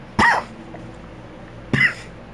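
A character in the Doki Doki Literature Club Plus visual novel gives two short, close coughs about a second and a half apart over a faint, steady background hum.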